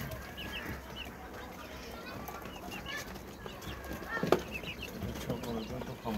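Poultry on a farm, including turkeys, guinea fowl and quail, make scattered faint clucks and chirps with occasional wing flutters over a busy, rustling background.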